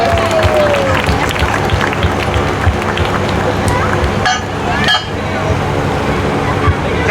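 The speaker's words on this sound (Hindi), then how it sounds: "उनके सीट पर बैठने तक तालियां बजती रहनी चाहिए।" An audience claps continuously through a comedic stage act, the applause dense and steady with murmuring voices underneath, briefly thinning near the end before picking back up.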